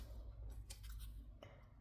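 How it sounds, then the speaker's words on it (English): Scissors trim a stamped paper greeting card, giving a few crisp, quick snips spaced irregularly against a quiet low room hum. "I'm just going to take my scissors"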